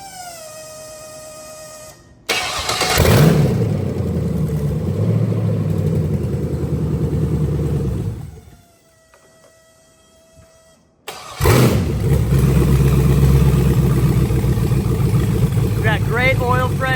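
A junkyard-sourced race car engine cranks briefly, then fires and runs with a loud, steady rumble, drops out for a few seconds, and starts again to idle strongly up close.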